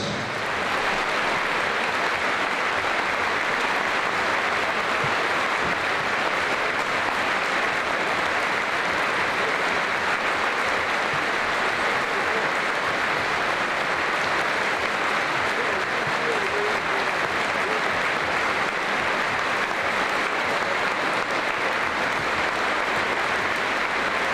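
A minute's applause from a football crowd in memory of a late superfan, steady dense clapping sustained throughout without pause, loud and even from start to finish.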